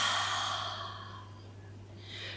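A slow, steady exhale during a yoga breathing exercise, a soft airy breath that fades gradually over a couple of seconds, close and quiet with no talking.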